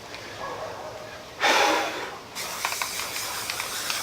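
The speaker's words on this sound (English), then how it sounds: "I'm gonna take this spray adhesive," Loctite spray adhesive hisses from a can onto Reflectix insulation in one loud, close burst of about a second, followed by quieter handling sounds.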